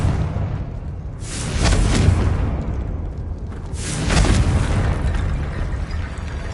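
Two Confringo blasting-spell explosions in Hogwarts Legacy, each a loud booming burst with a rushing tail, set a couple of seconds apart over a low rumbling background.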